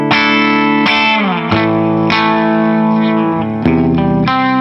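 An Ibanez Q52PB electric guitar on its bridge humbucker plays clean, ringing strummed chords with a slight bite. The chords are struck every second or so and sustain loudly, with no speech.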